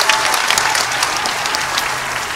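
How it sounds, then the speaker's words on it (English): A high school audience applauds after a fall vocal music concert, loud, dense and continuous clapping filling the hall from start to end. "A round of applause for all three groups for tonight's concert."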